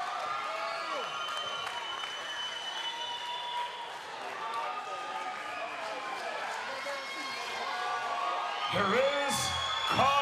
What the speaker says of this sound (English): you can hear the crowd out there